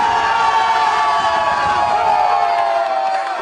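Crowd at a robotics competition cheering and shouting, a dense sustained roar of many voices that stays loud and steady, with no single voice standing out.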